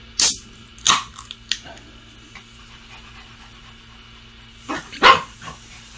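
A pet dog gives a few sharp barks and yips, two early and a pair near the end, close by with quiet pauses between.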